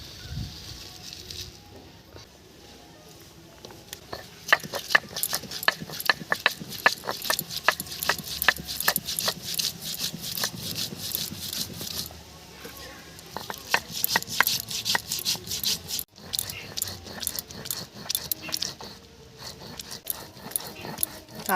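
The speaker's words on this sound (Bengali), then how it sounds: "এগুলো সব একসাথে বেটে নেব।" Green chillies are ground on a stone slab (shil), making rapid rhythmic scraping and rubbing strokes that start after a few seconds and continue steadily, loud and close, with a brief pause near the end.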